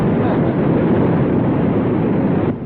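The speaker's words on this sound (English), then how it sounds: "the wheels must be spinning in the mud" An old truck's engine roars at high, steady revs as its wheels spin in mud, a dense, loud, continuous drone that drops off abruptly at the end.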